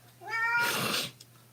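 A house cat lets out a single drawn-out, rising meow indoors, loud and close, lasting about a second, then fading back to a quiet room hum.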